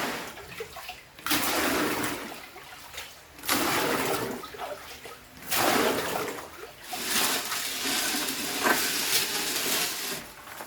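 Water being poured out and dumped at home, several separate gushing splashes a few seconds apart, moderately loud, with quieter pauses between pours and no talking.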